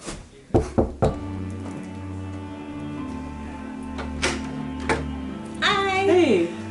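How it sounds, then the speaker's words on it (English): Two or three sharp knocks on the door of a house ring out near and loud, followed by a quiet stretch with a steady hum and then brief voices near the end. "so we can knock."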